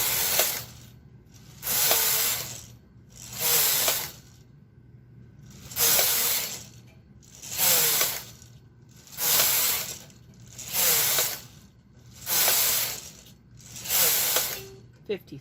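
Knitting needles work across a row of a Fair Isle toddler sleeve, producing a regular series of soft, close scratchy swishes in evenly spaced bursts with short quiet gaps between.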